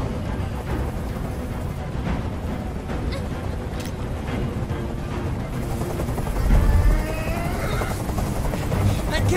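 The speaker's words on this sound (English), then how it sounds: "Tell that helicopter to get out of here." Helicopter in the video game Detroit: Become Human, a loud, constant rotor drone with deep rumbling thuds filling the scene, with voices talking over it and intermittent sharp crackles.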